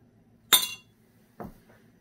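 A pen drops into a glass jar with a sharp bright clink, followed by a second, softer tap a moment later in a quiet room.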